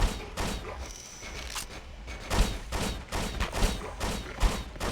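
An enemy riot shotgun fires repeatedly in Hunter: The Reckoning, heavy booming shots in an irregular rhythm, about half a dozen blasts mixed with other game noise.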